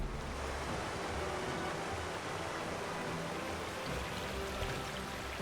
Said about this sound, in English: Water's been drained completely.